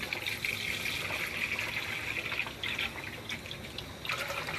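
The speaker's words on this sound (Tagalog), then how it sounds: "isang mangkok na tubig pero sobra pa rin nadagdagan ko pa ng isang mangkok ulit" A bowl of water poured into a cooking pot gives a steady splashing, trickling wash that stays fairly loud and continuous, with no talk over it.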